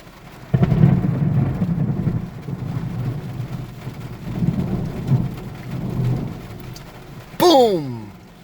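Heavy thunderstorm rain pours over a car in Littleton, Colorado, a steady dense wash of drops on the roof, then a sudden loud close lightning crack near the end with a rumbling, descending thunder roll.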